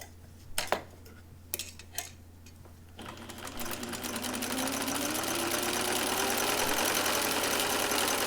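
A sewing machine zigzag-stitches seam allowances on a princess-seam blouse: a few sharp clicks and taps, then the motor whirs up into a steady, rising drone until the end.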